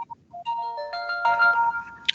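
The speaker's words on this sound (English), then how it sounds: "can anyone else hear the ringing in the background?" Telephone ringtone going off in the background at a field hockey media day, a clear melodic electronic tone pattern that builds over about two seconds, then cuts off with a short click.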